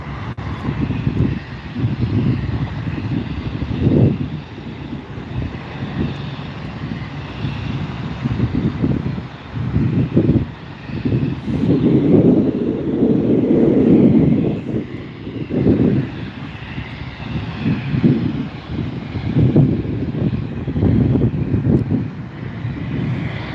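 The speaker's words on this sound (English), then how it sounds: "So enjoy the takeoff from this Bombardier Challenger 350." A Bombardier Challenger 350 business jet takes off, its engines giving a loud, swelling roar that rises and falls over about twenty seconds, with wind buffeting the microphone.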